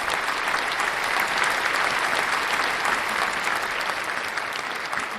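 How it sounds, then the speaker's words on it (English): Steady, dense applause from a crowd celebrating rising crypto market values, continuous and fairly loud for the whole stretch with no talk over it. "So let's give that a round of applause."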